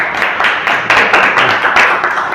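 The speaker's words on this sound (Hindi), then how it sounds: "एक बार तालियां बजा दो जरा इसके लिए, बिग राउंड ऑफ अप्लॉज" A classroom of students applauding together, steady dense clapping at close range that holds for a couple of seconds, loud and continuous without speech.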